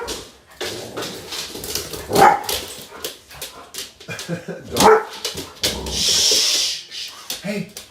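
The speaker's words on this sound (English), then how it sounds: "Hey, no barking. No barking." A big dog barks indoors in several sharp bursts, mixed with whimpers and yips, while people talk and hush it over the noise.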